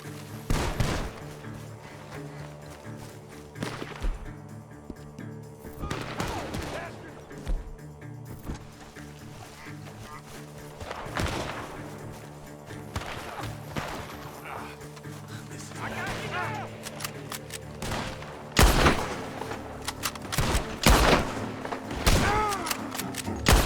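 Gunfire from a bar in the Red Dead Redemption 2 video game, scattered loud gunshots and bursts spread over the stretch, mixed with shouting voices, barking and background game ambience.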